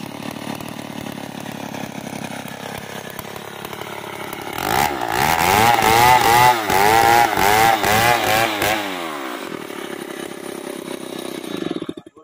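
A Stihl 070 chainsaw splits a large merbau log. An idling engine revs up into a loud, pulsing cutting roar that lasts several seconds, then drops back to an idle, and the engine stops at the end.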